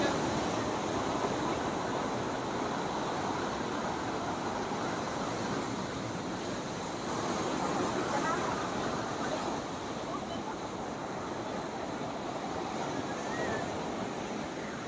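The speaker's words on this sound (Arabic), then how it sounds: "استمتعوا بالموج." Steady surf rolling in along the Alexandria corniche at Cleopatra beach during high seas, a continuous broad wash of breaking waves with wind and faint distant road traffic blended in, no clear voices.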